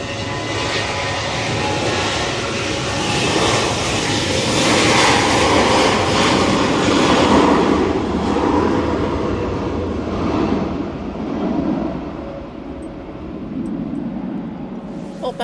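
A Boeing 737 departs Manchester Airport for Skiathos on a windy day, its engine roar swelling and then slowly fading into the distance, with faint talk in the background.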